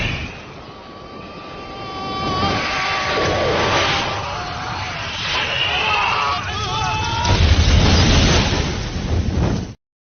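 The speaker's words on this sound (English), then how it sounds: "God, what an explosion." A big action-movie explosion from True Lies builds into a heavy rumbling blast, with honking, wailing tones and screeching sweeps mixed over it. It is loud and sustained for several seconds before cutting off abruptly.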